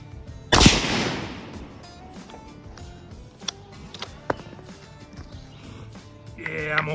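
One sharp, loud rifle shot from a Howa Mini Action in 7.62x39 cracks close by and rings out. Softer clicks and handling noises follow, with someone talking faintly in the background.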